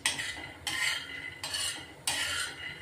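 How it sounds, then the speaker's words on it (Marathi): Peanuts dry-roasted in a pan over a low flame, stirred in bursts of rattling, scraping sweeps, about four distinct strokes, near and clear with no talk. "शेंगदाणे ना स्लो गॅसवर भाजायचे, छान भाजले जातात खरपूस।"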